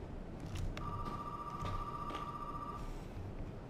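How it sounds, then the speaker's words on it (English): A telephone rings in Resident Evil 7, a single steady electronic tone holding for about two seconds over dim ambient game noise. "Is that a phone?"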